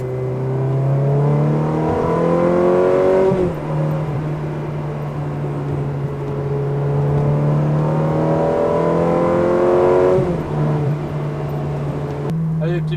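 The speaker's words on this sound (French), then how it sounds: "On s'en lasse pas, ce coup de gaz au rétrogradage." BMW M3 engine revving hard through gear changes, a loud steady drone climbing in pitch, then dropping sharply at each shift near 3.5 and 10 seconds with a throttle blip, close and continuous.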